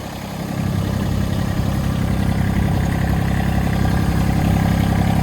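A tractor engine runs steadily while the machine is driven onto a trailer, a loud, close, continuous mid-low drone that rises slightly in strength after the first half second, with no voices.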